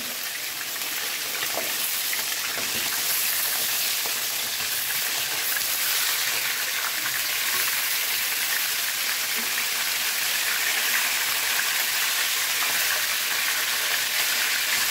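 Chicken frying in hot oil for biryani hisses and sizzles in a loud, steady crackle that carries on without a break, close up and with no talk over it.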